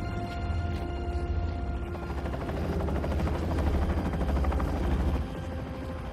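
A helicopter in a Spider-Man 2 video game cutscene gives a steady, loud rotor drone with rhythmic chopping and mechanical clatter layered over it, continuous throughout with no talking.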